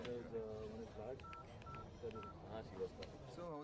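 Telephone keypad tones beep in a quick series of short, evenly spaced presses, heard under a continuous bed of dubbed film dialogue and background sound in a movie scene.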